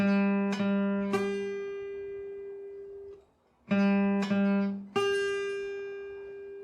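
Plucked acoustic guitar notes of Happy Birthday ring out close and clear, a few at a time with long sustains, pausing briefly in the middle before a similar phrase.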